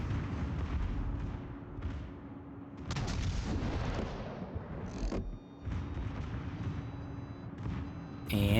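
Heavy battleship main guns firing in World of Warships, the German Tier 9 battlecruiser Prinz Rupprecht, with repeated booming salvos over a constant low engine and ocean rumble and game interface noise, no voices.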